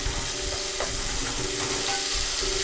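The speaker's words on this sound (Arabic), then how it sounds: "احنا بدنا نضل نقلب لحتى تدبل البصلة معانا" Onions fry in corn oil in a pan for Mexican chicken, a continuous close sizzle and hiss broken by soft scraping as they are stirred.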